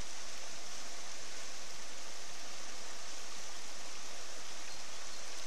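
Water pours steadily through a Karma hurricane gold pan during gold panning, a constant, even rush of flowing water with no break across the whole stretch.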